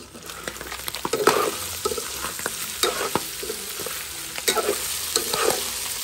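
Andouille sausages sizzle and fry in a pot for a rougail, with repeated scraping stirs of a spoon against the pot over a steady close crackle.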